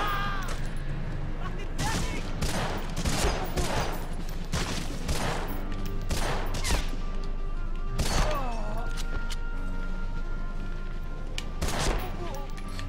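Dense machine gun fire in Medal of Honor Frontline, repeated bursts of rapid shots with crashing impacts, loud and continuous throughout, with talk over the fire.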